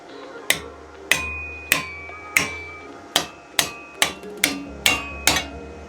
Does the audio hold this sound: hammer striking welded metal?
yes